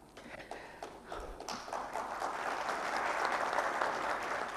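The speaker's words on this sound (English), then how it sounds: "The applause itself is a reflection of their feelings" Audience applause at a management and HRD summit in Lahore after a presentation, starting as scattered claps and swelling into dense, sustained clapping from a large hall.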